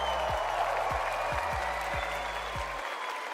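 A large crowd at a Fortnite FNCS global championship event applauds and cheers continuously, a dense, steady wash of clapping at roughly even loudness, with a few low thumps beneath before it cuts off abruptly near the end.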